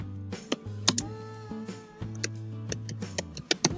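Rapid computer keyboard typing of a caption, irregular clusters of crisp key clicks close up with brief pauses between bursts, no voices.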